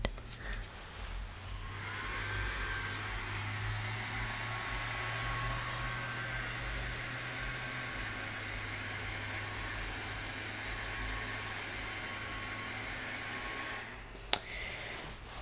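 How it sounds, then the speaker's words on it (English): A hair dryer blows steadily to dry eyelash extensions before sealant goes on, a constant close whooshing airflow that runs almost the whole time and cuts off near the end with a click. "I'm going to go ahead and dry your lashes again before we apply the sealant."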